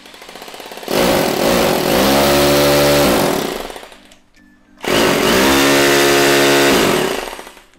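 A German-made two-function hammer drill, a Japanese-market 100 V unit, runs in two loud bursts with a dip between, its motor pitch rising and falling as the variable-speed trigger is squeezed harder or eased off.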